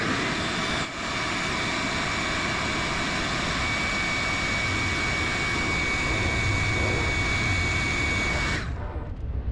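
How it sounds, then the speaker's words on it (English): Good-sized shop vac powered by a portable power station: a loud, steady whining roar holding constant for about nine seconds before cutting off abruptly, leaving near silence. "Next up is a good sized shop vac."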